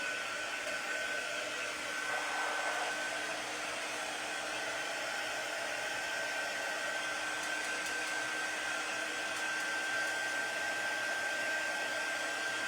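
A hair dryer blows steadily and close by for the whole stretch, drying a freshly painted spring sign, with a constant whine and no talking.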